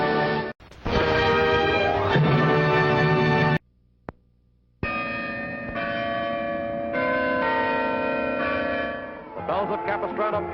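Church bells peal loudly and continuously over a full orchestral score, broken by a brief near-silent gap before the ringing and music surge back, in a 1950s Technicolor film trailer.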